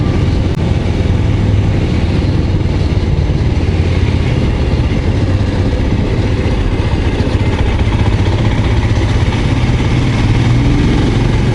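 A Royal Enfield Scram 411 single-cylinder motorcycle engine rumbles steadily on a ride along a wine route, a close, loud, continuous low throb with slight shifts in pitch and no voices.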